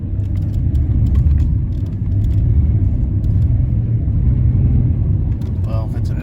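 BMW 525 TDS car driving around a roundabout, a steady loud low engine and road rumble throughout, with people talking in French over it inside the car.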